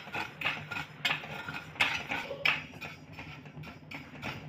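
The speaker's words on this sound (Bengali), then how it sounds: "মশলাগুলোকে আমি ভেজে নেব" Whole spices, including asafoetida, are dry-roasted over a medium gas flame for a tart-spicy mango pickle. A spoon scrapes and clinks against the pan in irregular strokes, and the stirring is moderately faint.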